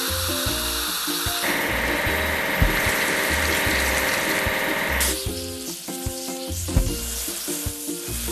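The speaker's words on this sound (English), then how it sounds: "Now we need to wash it clean." A toy vehicle's pump sprays water to wash it clean in a children's cartoon: a steady, bright hiss of spray runs for several seconds over cheerful background music, then stops.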